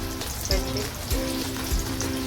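Surmai (kingfish) pieces coated in mutton masala and turmeric fry in a pan with a steady, close sizzling hiss, broken by a few soft recurring thuds and no talk.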